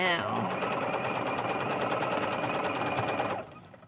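Sewing machine stitching an upcycled fabric fairy skirt, a steady fast whirring run for about three and a half seconds before stopping abruptly, close and loud.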